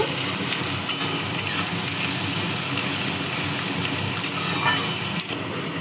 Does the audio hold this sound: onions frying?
yes